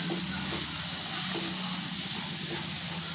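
Onion kara kuzhambu in a pan as kuzhambu powder and chilli powder are stirred in, giving a steady, close sizzling hiss throughout with no talking.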